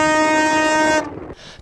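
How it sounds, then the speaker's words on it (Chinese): Tugboat horns sound in celebration after the Suez Canal ship is refloated, a loud, sustained, tonal blast that cuts off abruptly, followed by a brief fainter tail. "拖船也开心鸣笛欢庆这一刻"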